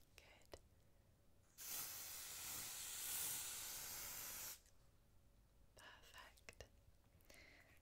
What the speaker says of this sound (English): So I'm just going to give a little spritz.